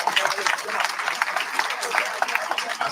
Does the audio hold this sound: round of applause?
yes